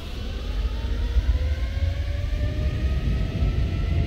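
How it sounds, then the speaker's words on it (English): Airliner engines spooling up to takeoff power at EGLL in the Prepar3D v4.3 flight simulator, a deep continuous rumble with whining tones rising steadily in pitch, no voices. "Take off power"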